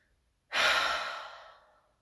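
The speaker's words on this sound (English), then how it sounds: "breathing again" A person takes one deep, audible breath, a sudden airy exhale that starts loud and close, then slowly fades away over about a second and a half, with no talking.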